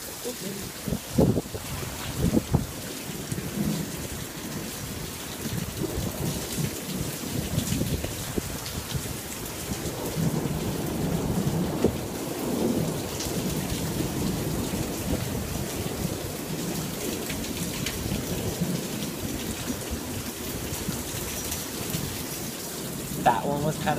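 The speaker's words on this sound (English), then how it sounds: "I love the sound of thunder." Heavy April storm rain pours steadily outside an open window, with deep rolling thunder rumbling through it and one louder boom near the start.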